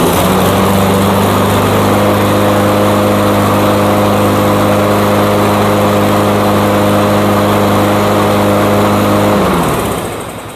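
A Cub Cadet lawn mower engine, its blade freshly reattached, torqued, sharpened and balanced, runs at a steady loud drone with a constant hum for about nine seconds, then winds down and cuts off near the end.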